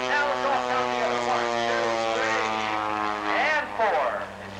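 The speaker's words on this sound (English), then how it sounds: "There he keeps the airplane there, inverted for a moment, half rolling back to upright." An aerobatic propeller airplane performs at a 1988 San Diego airshow, its droning engine steady with rising and falling pitch sweeps as it maneuvers, while an announcer talks over it.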